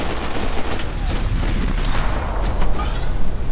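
Pistol fire in the video game Max Payne 3, a dense, continuous barrage of rapid shots and impacts close by, loud throughout.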